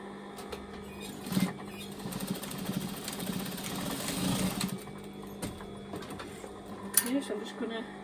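A sewing machine stitches in the ditch along a skirt seam, a busy mechanical whir rising and easing in short runs, close up, with someone talking over it.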